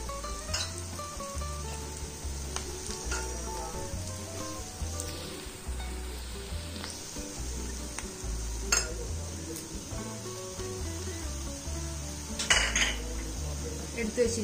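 Onions sauté in a pan with curry leaves for a pepper chicken roast, a soft sizzle beneath repeated metal clinks and scrapes of a spoon against the pan, fairly quiet and close.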